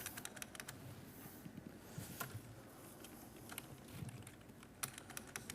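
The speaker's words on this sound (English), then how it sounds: "I'm typing on a Swedish keyboard." Keys clatter in quick, uneven bursts on a Swedish computer keyboard, the typing close and fairly quiet over a steady room hum, with a few sharper clicks between runs.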